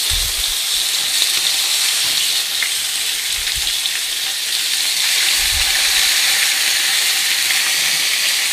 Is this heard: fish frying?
yes